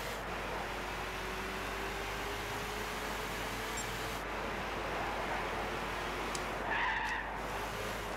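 Race car driving in the video game Gran Turismo 6 at Willow Springs, a steady droning engine note with a noisy, hissing wash throughout and a brief squeal-like burst near the end.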